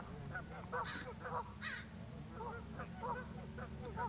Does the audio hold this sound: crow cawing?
yes